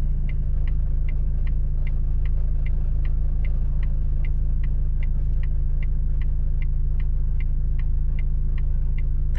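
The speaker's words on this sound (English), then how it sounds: "that is the sound of my car." A car engine runs steadily with a low, constant rumble, while a crisp ticking repeats at an even pace throughout, like a turn signal.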